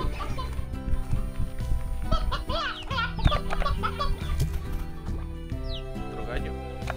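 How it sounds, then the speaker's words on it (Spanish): Roosters clucking in the video game Slime Rancher, several short bird calls scattered through busy game music and effects, with someone speaking Spanish over them. "Otro gallo. Son tres gallos."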